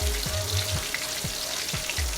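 Salted fish curry base sizzles steadily in a pan while it is stirred, with soft scraping strokes recurring about every half second over a continuous frying hiss.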